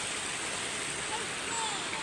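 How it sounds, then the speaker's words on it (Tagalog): Steady broadband rush of a river flowing at Kamaysa, Tayabas, Quezon, close and unbroken for the whole stretch, with no voices over it. "Ito po ang ilog dito."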